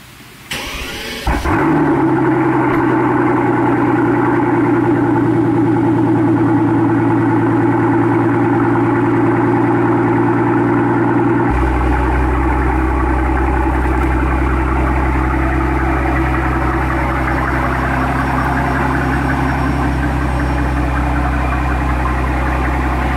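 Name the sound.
car engine idling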